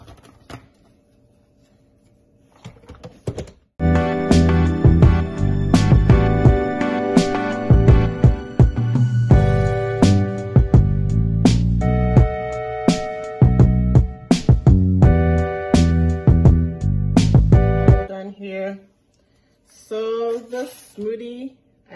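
A blender runs loudly for about fifteen seconds, blending lemon, carrot and water into a smoothie, with stuttering pulses and pitch changes as the blades chop, then stops, followed by a short spoken comment.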